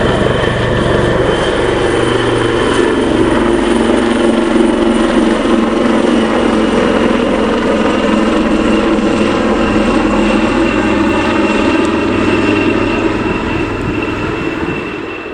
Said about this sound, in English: approaching from the front left in the flying diamond formation, followed by a looping, the amazing and internationally renowned PC-17 of the Swiss Air Force